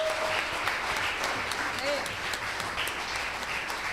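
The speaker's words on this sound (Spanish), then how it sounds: "Dale un aplauso al Señor." Church congregation clapping in praise, a dense steady patter of applause running throughout with voices mixed in beneath it.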